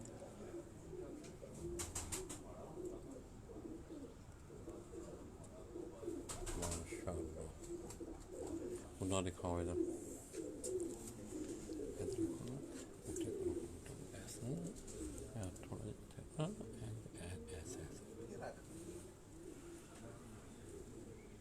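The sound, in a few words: crested pigeon breed cooing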